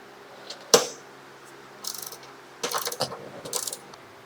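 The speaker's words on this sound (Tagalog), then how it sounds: "Higpitan ko lang kasi bago ikabit, kailangan maigpit to." A screw being tightened by hand while setting up a new Giorno appliance: one sharp metallic click, then clusters of small ratcheting, clicking mechanical sounds close by, with no talking.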